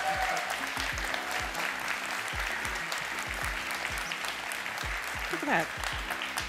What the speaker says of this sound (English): Can I get a round of applause for the BSides Orlando staff and volunteer team?